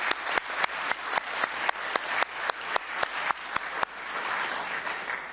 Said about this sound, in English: I think he deserves a big round of applause for that great effort.